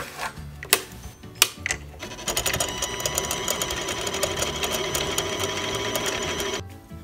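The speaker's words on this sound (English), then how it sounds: "So here we're going to do a countersink to help the JB Weld stick a little bit better." A Harbor Freight Central Machinery lathe, item 93212, countersinks a small part with a drill bit. After a couple of sharp clicks it settles into a steady, close, buzzing mechanical whir, which cuts off near the end.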